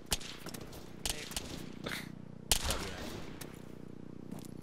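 Short bursts of rapid machine-gun fire in the video game ArmA 3 ring out in uneven volleys against a steady low rumble, with one louder, closer burst midway through.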